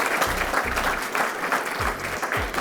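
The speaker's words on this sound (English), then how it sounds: "Big round of applause for them." An audience at an evening event applauding, dense close clapping from a crowd that holds steady for about three seconds, with no voices.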